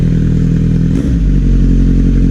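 A Kawasaki Z900 SE with a burnout exhaust pipe revs loudly up close, a dense rumbling growl that dips briefly then surges again with crackling texture.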